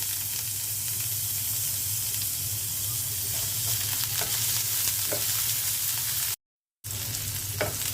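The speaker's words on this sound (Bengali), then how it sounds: "পেঁয়াজ আর রসুনটা হালকা ভেজে নিলাম।" Chopped onion and garlic frying in oil in a pan, a steady dense sizzle with occasional spits and pops that drops out briefly near the end before resuming.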